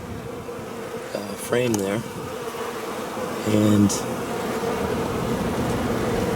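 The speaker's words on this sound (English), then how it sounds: "So I keep on thinking I'm getting stung, but they're just landing on me." Honey bees hum and buzz in a steady drone around an opened hive in November, with wind noise, while a person talks in short bursts over it.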